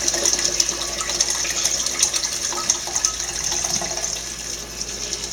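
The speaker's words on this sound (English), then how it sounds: "I am going to add some water" Water pours steadily into a pot, a continuous splashing gush at moderate volume with no voices.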